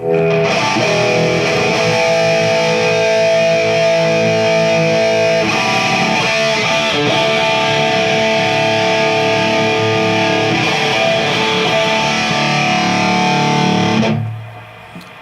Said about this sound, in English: We want to hear the reverb.